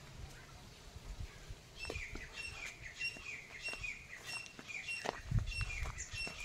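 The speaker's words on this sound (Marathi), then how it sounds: "पक्ष्यांचा आवाज" Several birds chirp and tweet in short bursts against a steady outdoor background in a village backyard with custard apple and guava trees, with occasional faint rustles and low thumps.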